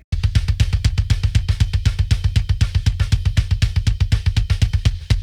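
A processed kick drum, miked with an AKG D25 and gated, thumps in a fast, steady pattern of about seven punchy hits per second, tight and loud, with no other sounds around it.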